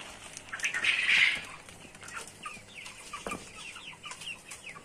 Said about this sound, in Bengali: দেখুন মুরগিগুলা সুস্থ সবল রয়েছে